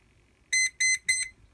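Three loud electronic beeps from a caravan fridge cooling system's fan jam alarm in a steady rhythm, each about a quarter second long, following a quiet lead-in with a faint tone.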